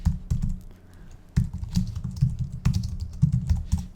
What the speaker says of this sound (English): So let's type that out.